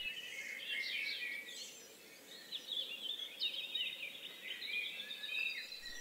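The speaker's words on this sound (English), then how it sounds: "We can hear a few song thrushes around us, repeating every phrase that they say." Song thrushes sing in a dawn chorus at first light beside the Glebe Gallery, repeating bright phrases in clear bursts over a soft, low background hum, with other birds faint around them and no talk.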